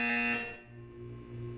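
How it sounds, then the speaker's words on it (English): A buzzer from the video game Portal 2 sounds once, loud and harsh, for about half a second, then trails into a low electronic hum and drone with no talk. "When you hear the buzzer, look up at the ceiling."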